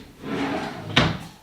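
A drawer of a budget-built four-drawer wooden nightstand slides on roller glides, a soft rolling rumble that ends in one sharp, close knock as it shuts.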